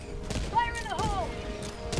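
A grenade goes off in the video game Helldivers 2 amid a burst of sharp, booming gunfire-like blasts, with a gliding tonal whine layered over the clatter.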